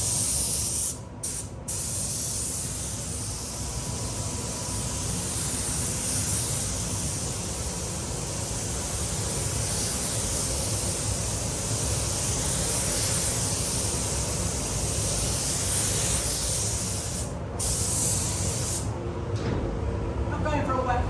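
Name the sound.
spray gun applying metallic car paint at 1.2 bar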